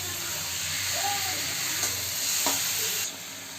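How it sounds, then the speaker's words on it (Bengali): Potatoes sautéing in spiced oil in a pan make a constant, fairly loud hissing sizzle with a brief scrape of stirring partway through. The sizzle drops slightly near the end. "এবার দিয়ে দেবো আলু। আলু একটু কষিয়ে নিয়ে"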